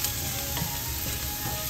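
Garlic sautéing in a hot pan for sinigang sa miso with salmon gives a steady, close, dense sizzle that runs unbroken with no voices over it.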